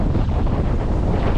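Strong wind on a beach in Fuerteventura batters the microphone with loud, steady roaring buffeting, with no other sound standing out.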